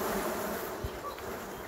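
Honeybees buzz in a dense, steady swarm as they are shaken off hive frames while a colony is arranged for wintering, a close, continuous hum with faint knocks underneath.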